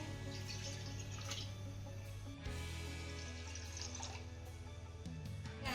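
Water from a glass pours into a kadhai, a close steady splashing stream that briefly pauses midway and then resumes, with no voices.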